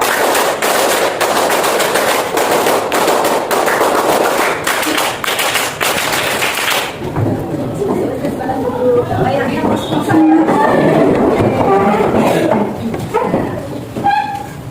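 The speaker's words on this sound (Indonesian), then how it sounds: "Oh, berarti saya tiga kali tepuk pramuka." Classroom of vocational-school students performs the Indonesian scout clap in unison, a dense burst of rapid, sharp group claps for several seconds before it stops and a voice talks over the room.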